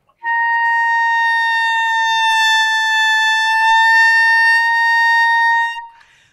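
Clarinet sustaining one high-register note with faulty head angle, loud and steady with a bright edge for about six seconds, played alone.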